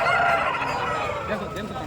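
A rooster crows in a drawn-out call at a poultry market, fairly loud and close, with a bit of background noise and no talking.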